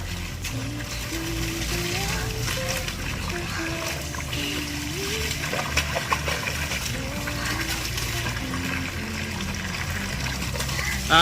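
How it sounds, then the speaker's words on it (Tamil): Water running from a pipe onto hands in a village, a continuous splashing stream heard under a voice and a steady background hum. "தண்ணி பிடி, அப்படியே கையில பிடி"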